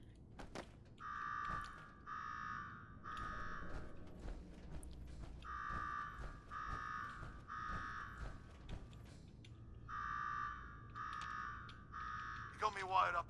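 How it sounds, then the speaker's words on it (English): A repeating alarm sounds in Fallout 4's Nuka World, with groups of three harsh buzzing tones separated by short pauses, playing over low ambient game noise and occasional voices. "Now go shut off that damn alarm."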